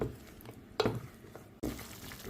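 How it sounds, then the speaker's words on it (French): A pan of sauce for pork chops simmers and sizzles softly while a utensil stirs and scrapes the bottom, with a sharp scrape midway and louder frying near the end. "on va bien mélanger, bien racler et on va laisser cela mijoter un petit moment"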